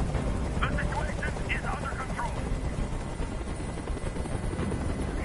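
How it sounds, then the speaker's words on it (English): Helicopter flying in a video game, a steady loud rotor drone throughout, with game voices and effects over it. "Tell that helicopter to get out of here!"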